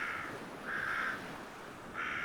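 Three hoarse crow caws repeat at a steady pace over a faint ambient background, each call short, rough and moderately loud with no voices.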